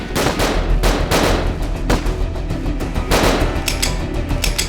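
Gunfire during an attack on a police station: rapid bursts of loud, close shots and scattered single cracks, dense and overlapping for several seconds.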